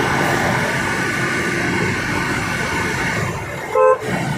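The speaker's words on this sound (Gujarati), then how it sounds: "ટ્રેન જાય છે એટલે હવે થોડીક વાર રાહ જોવી પડશે." A train passes a railway level crossing with a steady, loud rolling rumble of wagons throughout, and a short, sharp horn blast near the end.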